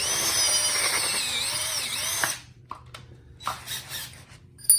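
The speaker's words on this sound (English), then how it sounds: "So now that we got that last hole drilled" A power drill bores a hole for a lift kit stud on a Kia Sportage, giving a loud, steady whine for about two seconds before it stops. A few faint clicks and handling noises follow.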